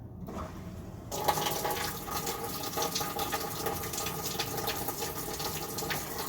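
Water rushes steadily into a top-loading washing machine set to a hot whites cycle during a cleaning run, a continuous hiss of filling water that starts after a brief quiet moment and stays even and close.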